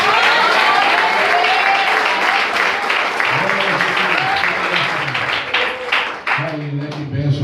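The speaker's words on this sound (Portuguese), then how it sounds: "Uma salva de palmas para Jesus." A church congregation bursts into loud, sustained applause that fills the room, with voices and a brief sung or spoken tone rising beneath it as the clapping thins.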